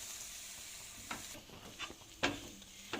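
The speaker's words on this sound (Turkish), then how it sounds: "Şimdi tekrar şöyle karıştırıyoruz." A spoon stirs gluten-free flour halva with molasses and boiling water in a pan, giving soft sizzling scrapes with a few sharper knocks against the pan, close but quiet and alone.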